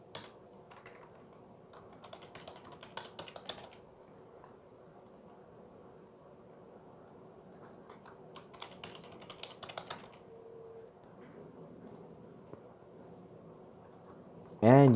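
Quiet bursts of computer keyboard typing as a NEM wallet password is entered, soft clustered key clicks separated by pauses, ending with a short chime.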